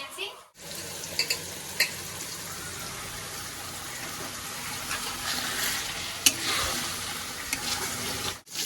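Chicken sizzles loudly and steadily in a hot pan as it is stirred, a dense hiss with occasional sharper scrapes and clicks, continuing for several seconds between brief pauses.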